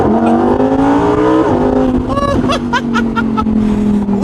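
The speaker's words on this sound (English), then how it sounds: "All right, another little acceleration run because why not?" 2020 Lamborghini Huracan Evo Spyder pulling an acceleration run, engine note climbing loud and close through rising gears with a quick shift, while someone laughs and chuckles over it.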